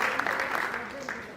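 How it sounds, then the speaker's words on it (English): Applause from the audience at an Africa Public Service Day event, a steady wash of clapping that fills the clip and runs under faint voices. "Can we clap better than that?"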